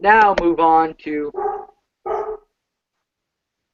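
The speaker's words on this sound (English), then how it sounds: "That was my dog." A dog barks a few sharp yips close by, mixed in with and overlapping a man's speech, followed by silence.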